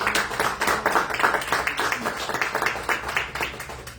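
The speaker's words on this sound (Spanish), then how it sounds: "Denle un aplauso al Señor." A church congregation claps steadily for a few seconds, dense and fairly loud, with a few voices mixed in.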